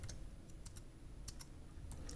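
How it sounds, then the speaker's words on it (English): Keys on a computer keyboard tapped in short, irregular bursts of single clicks, close and fairly quiet, with no talking. "So I'm going to start typing right there and add a header."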